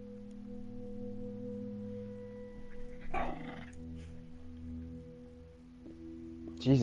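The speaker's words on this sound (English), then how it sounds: "and then Emma, my dog, growled at it." A pet dog growls indoors at a blanket that was moved: one short, rough growl bursts out midway through, over a constant low electronic hum.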